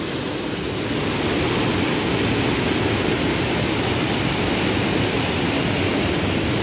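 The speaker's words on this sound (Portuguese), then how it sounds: "Água, muita água no sertão, meu povo." Floodwater rushes after heavy rain in the dry backcountry of Ceará, Brazil, a loud, constant roar of churning water that fills the whole stretch with no voices.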